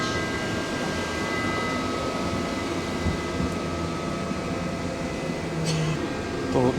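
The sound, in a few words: train running at speed, Manchester to Liverpool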